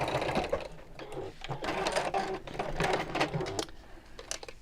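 Sewing machine stitches in quick bursts with short pauses, running close to the edge of padded fabric with cream thread for reverse applique; the needle's clatter is near and clear.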